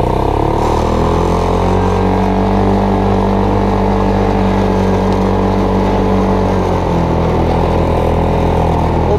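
A hybrid ATV golf cart engine roars loud and close, holding a strained, droning pitch as it accelerates, with a shift in tone near the end and no talk.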